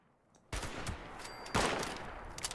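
A sniper rifle shot in the online game Fallout 76 bursts out loud and sharp after a quiet moment, followed a second later by a second heavy blast, with echoing gunfire texture between them.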